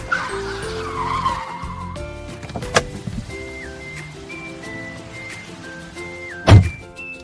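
A car pulls away amid a busy, layered soundtrack of tones and effects, with a sharp thunk near the start, a rising skid-like surge and a loud closing thump, and no one speaking.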